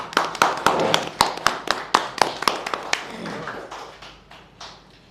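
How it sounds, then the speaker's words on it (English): A small in-person audience at a roundtable claps, a sparse group producing distinct sharp, close claps in a quick rhythm that thin out and fade over a few seconds. "Give you guys a big round of applause back there"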